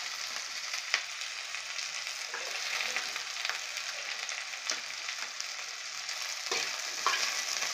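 Onion sizzling and frying in hot oil while a potato sandwich filling is cooked, a steady bright crackle with occasional stirring clicks and spatters, close and continuous with no talk.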